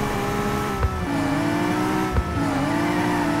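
Engine of a BMW M4 in the Cobra 11 Highway Nights driving game, droning steadily through a parking garage with two brief gear-change dips, close and continuous with no talk.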